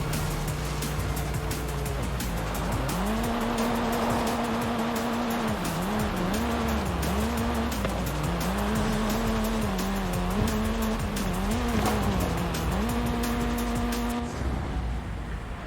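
A Volkswagen Scirocco in Forza Horizon 5, set in Mexico, roars continuously as its engine note wavers up and down, with loud, sustained tire squeal and skidding throughout.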